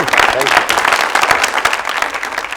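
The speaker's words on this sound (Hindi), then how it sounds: "तालियां" A studio audience at a comedy talk show claps loudly and densely for about two and a half seconds, with a voice speaking briefly over the start of the applause.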